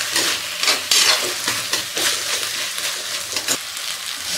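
Pasta masala with tomato ketchup and chili flakes being stirred in a hot pan, the spoon scraping and pushing through a loud, continuous sizzle in bursts, with no talking.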